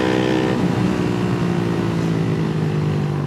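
A remapped Honda Winner X motorcycle engine revs high and strains close up, its steady buzzing drone holding near the top of its range with clear rising harmonic tones.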